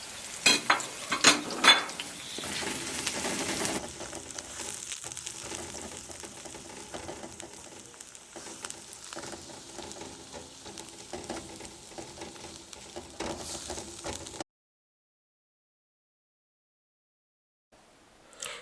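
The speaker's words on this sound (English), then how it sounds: "This is the diced onion. And I'm going to let this fry up until it is a little bit sweaty" Diced onions fry in oil for Ghanaian assorted party fried rice, a steady close sizzle with stirring scrapes and clicks, loudest in the first few seconds, then cutting to silence near the end.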